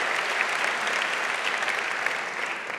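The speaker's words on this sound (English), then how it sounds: "Please give a big round of applause for Nikki Trip, Jan-Pieter Versluijs, Nienke Roef and Pieter Willems." Sustained audience clapping for the jury at an energy-sector pitch competition, a full, even crowd of hands at moderate volume running unbroken with no voices over it.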